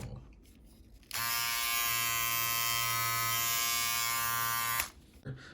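An Uno Gamma+ single-foil electric shaver with a 9,000 RPM lithium-ion motor buzzes steadily and close for about four seconds, switched on and then off.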